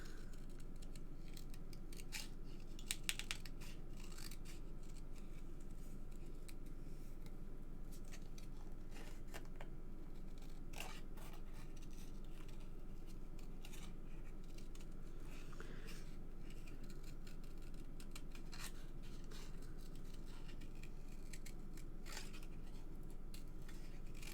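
Scissors snip through paper card while cutting out a Christmas sign shape for a frosty tree card, a faint, steady crisp snipping close by with no talk.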